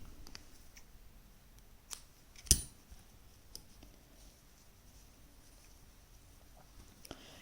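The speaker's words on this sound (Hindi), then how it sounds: "धागा काट देंगे।" Scissors snip through crochet thread in a quiet room, a few faint, scattered clicks and one sharper close snip rising above soft background noise.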